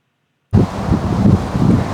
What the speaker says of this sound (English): Okay, it's a little breezy out here today.